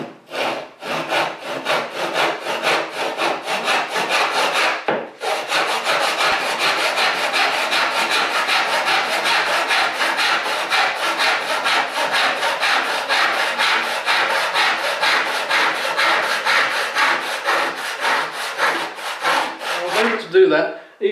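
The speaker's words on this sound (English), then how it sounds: "I'm using what's actually a dovetail saw, although it's 10 inches, to cut what could be the shoulder of a tenon." A 10-inch dovetail back saw with rip-filed teeth cutting a hardwood tenon shoulder, heard as close, steady rasping strokes in a fast continuous rhythm with one brief pause partway through, ending with a few lighter strokes.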